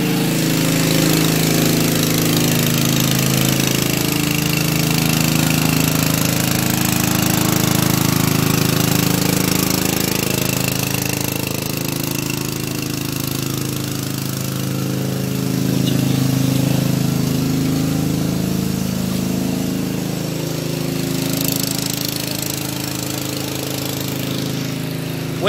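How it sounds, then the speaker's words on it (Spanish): Loud, continuous mechanical rumble of a drill breaking up street pipes, running steadily with rough pulsing texture and no break throughout. "está metiendo unas redes que con un taladro rompen todo"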